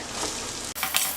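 Cooked rice stirred in a hot pan for puliyodharai, a steady close hiss and scrape broken by one brief pause, with no talking.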